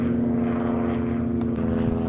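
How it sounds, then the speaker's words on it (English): A propeller airplane drones overhead above the Malvern Hills, a loud, steady throbbing engine hum that holds evenly with no talk. "Is that the same plane or a different plane?"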